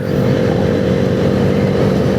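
A motorcycle cruising along the Delhi Katra Expressway gives a loud, steady engine drone mixed with heavy wind rush, with no break over two seconds and no voices.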